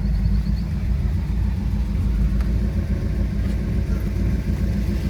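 A restored, numbers-matching 1968 Hemi Road Runner rumbles steadily during a ride, its deep low engine drone heard from inside the car, continuous and fairly loud, with no talking.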